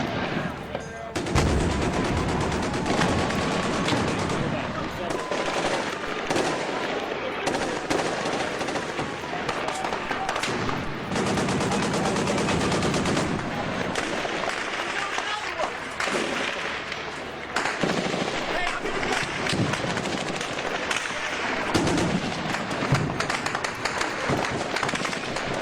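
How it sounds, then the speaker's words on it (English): Sustained close gunfire with PKM-style machine guns and other weapons during an operation, dense rattling bursts and sharp cracks nearly continuous throughout, loud, with voices underneath. "Yeah, we're about to get live fire."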